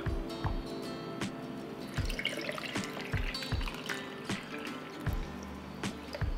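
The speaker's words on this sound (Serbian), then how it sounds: "Tegle ću sada napuniti sa vodom." Water running into glass jars of apricots, a close, continuous pour with drips and light glassy knocks as the jars fill to the top.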